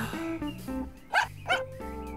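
Pluto, the cartoon dog, barks in two short, sharp yaps over bright, cheerful cartoon music, close and clear, with no talk.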